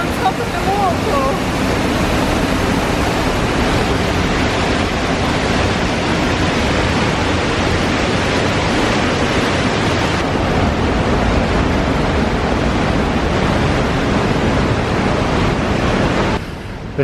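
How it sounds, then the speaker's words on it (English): A loud waterfall in Switzerland's Lauterbrunnen valley roars from close by, a dense, unbroken rush of water that stays constant and heavy throughout, with wind buffeting the microphone. "And you're right on top of the waterfall."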